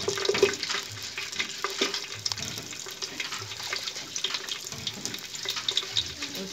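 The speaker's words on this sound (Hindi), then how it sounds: "तेल गरम हो गया, मिर्ची, फोरन, इसके बाद लहसुन," Chili and tempering spices sizzle in hot oil for shahi khichdi, a continuous, fairly soft frying hiss with light stirring scrapes throughout.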